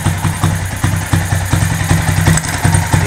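Motorcycle engine repurposed as a generator, running with its throttle opened at the carburetor screw, gives a loud, steady chugging with rhythmic firing pulses and small surges, close up and with no voices.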